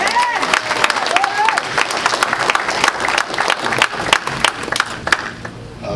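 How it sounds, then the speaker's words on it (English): Wedding congregation clapping in church, a dense patter of many hands sustained throughout, with voices and sung or shouted lines mixed in above it. "somebody clap for the Lord"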